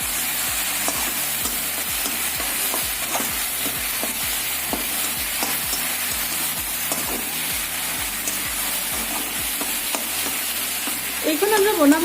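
Ginger-garlic paste with bay leaf and panch phoron fries in a hot pan while being stirred, a constant near sizzle with a regular stream of soft scraping strokes and a slightly louder clatter near the end.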